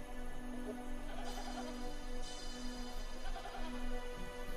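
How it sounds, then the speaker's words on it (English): A herd of goats moved by Bedouin shepherds along desert cliffs near Qumran, with scattered faint bleats over a low steady background, fairly distant. "Two Bedouin shepherds are moving a herd of goats along the cliffs of Qumrun"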